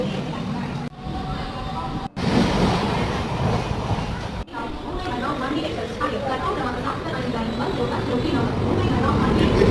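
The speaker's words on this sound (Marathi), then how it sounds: "थोड्या वेळाने माझी ट्रेन आली" A long-distance train pulling in at platform 5 of Thane station, a broad low rumble and rattle that swells steadily, with crowd chatter and voices mixed throughout.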